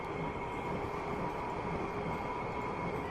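A Long Island Rail Road train in the Train Sim Classic game rolls steadily as it comes to a stop, a continuous rumble with a high whine and faint wheel squeal on a rainy day.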